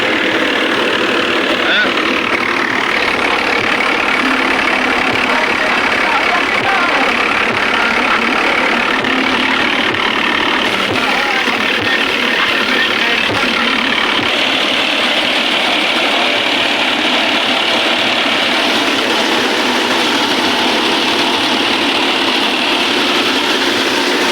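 A tractor engine runs steadily the whole time, a continuous rumbling drone with muffled voices in the background.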